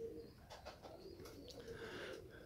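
Armavir fighting pigeons bathing in a water basin in winter give soft cooing calls and faint chirps, with light splashing and flutter under a steady low background.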